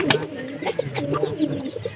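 A newly paired couple of pigeons coo in short, close, repeated murmurs, with a faint voice in the background.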